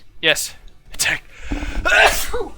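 A person sneezes sharply among a group of tabletop role-players, one burst followed by further short vocal bursts and speech nearby.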